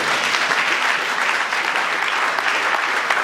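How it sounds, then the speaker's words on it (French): A church congregation claps steadily to acclaim the Lord during a worship service, a dense, even wash of applause that holds at the same level the whole time. "Acclamez bien le Seigneur."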